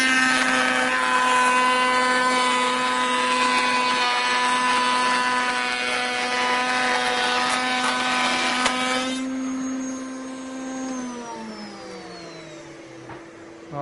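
A saw makes a pattern cut in wood held in a sled, its motor whining loud and steady for about nine seconds before spinning down and fading.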